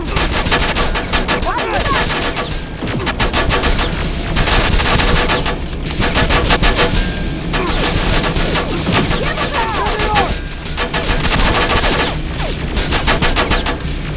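Heavy gunfire in the Terminator: Resistance video game, with rapid bursts of automatic weapons fire and sharp repeated shots in loud waves throughout.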